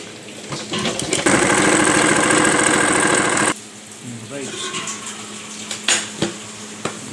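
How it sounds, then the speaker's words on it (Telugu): A tailoring sewing machine stitches a shirt shoulder seam in a loud, close, continuous burst of about two seconds, then gives way to quieter fabric handling and light knocks. "ఇప్పుడు ఒక కుట్టు కుట్టాలి"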